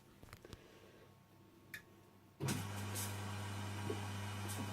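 A Belling FWD8614 washer dryer starts its 45-minute cycle, stepping abruptly from a quiet room to a steady low motor hum with faint whirring and occasional small clicks, running evenly and fairly quietly close by.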